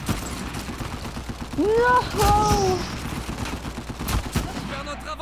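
Rapid gunfire crackles through a first-person shooter match in bursts and scattered shots over steady background game noise, while a person shouts briefly.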